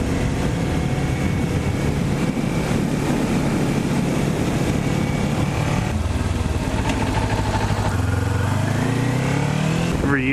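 Kawasaki Ninja 400 motorcycle ridden along country roads in autumn, its engine droning steadily and loud under heavy wind rush, with revs audibly rising and falling across gear changes toward the end.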